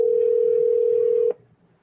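A landline telephone's steady dial tone hums continuously and loudly for over a second, then cuts off abruptly, leaving only faint room noise.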